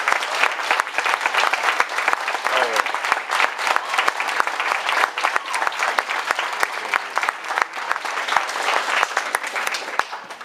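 Loud, continuous applause from a graduation ceremony audience honoring MA English graduates, dense with sharp individual claps standing out throughout, lasting about ten seconds.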